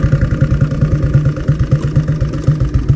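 A 1920s hand-change motorcycle engine runs up close and loud, with rapid pulsing firing beats and slight rises and falls in revs, held on the twist grip throughout.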